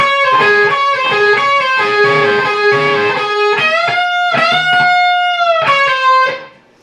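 A distorted electric guitar plays the lead-in riff to a song's chorus, sustained bending notes with short picked phrases, ringing out clearly before fading at the end.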